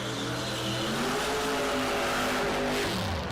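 Drag racing cars, including a 2015 Mustang, sit at the starting line with engines roaring loud and continuous, a dense, raw rumble with revving overtones and no voices.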